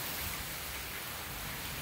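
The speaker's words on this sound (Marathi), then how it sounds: "पाऊस बघा, पाऊस काय कमी होईना झालाय" Steady rain falls outside a temple before dawn, a continuous even hiss of drops across the whole stretch with no voices over it.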